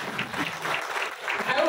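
Audience applause at a political rally speech, steady clapping from a crowd over about two seconds with a speaking voice mixed in.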